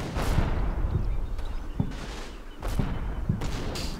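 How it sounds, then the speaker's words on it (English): Artillery fire pounds away in the Combat Mission WWII battle game, a steady rumbling barrage of repeated booming impacts roughly every half second to second over a continuous low roar, loud and dense, with no talk. "So the artillery continues pounding here."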